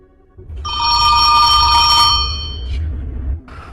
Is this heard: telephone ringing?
yes